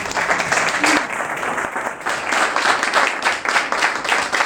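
Audience applause at a cathedral parish event honoring a priest, steady and fairly loud clapping from a crowd that runs throughout, with a voice briefly heard over it.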